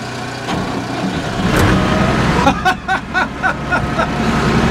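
An old road roller that sat unused for months starts up, its engine rumbling steadily and then settling into a chugging, pulsing idle close by, with no talking.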